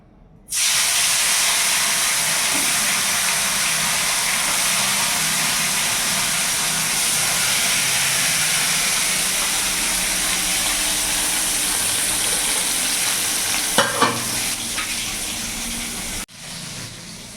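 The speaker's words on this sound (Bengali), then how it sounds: "এবার মাছগুলো আমি ভেজে নেবো" Pieces of katla fish, rubbed with salt and turmeric, fry in hot oil in a wok over a medium gas flame, giving a loud, steady hiss and sizzle that runs for about sixteen seconds before cutting off, with no talking.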